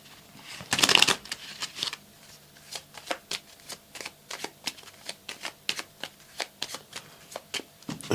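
A Petit Lenormand card deck is shuffled by hand, starting with a loud riffling burst and followed by a long run of crisp, evenly spaced card snaps up close, with no talking.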